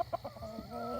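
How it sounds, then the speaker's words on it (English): Chickens on a goat farm give a quick series of close, rhythmic clucks early on, then a steady low background hum. "Ornery chickens."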